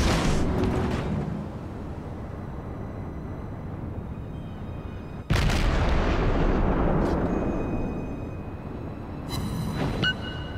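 Heavy naval gunfire from the enemy battleship Wyoming in a naval warfare video game: a deep booming blast followed by a long rumbling roar, with other thuds and a high whistling tone, amid steady background rumble and no speech.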